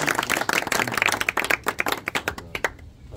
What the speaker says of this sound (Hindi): वाह भाई वाह, भरपूर तालियां इनके लिए।